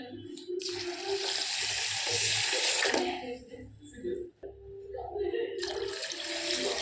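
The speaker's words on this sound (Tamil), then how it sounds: "2 ஸ்பூன் வெந்தயம் போட்டு முங்குற அளவுக்கு தண்ணி ஊற்றுவோம்." Water is poured over fenugreek seeds in a bowl to soak them, a close, steady splashing stream in two long pours with a short pause between, while a voice speaks underneath.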